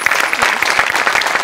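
Dense, steady clapping from a studio audience at a Marathi comedy show rolls on without pause, loud and close throughout.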